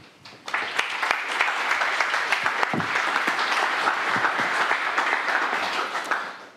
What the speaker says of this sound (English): So give it up and a warm applause for our first speaker.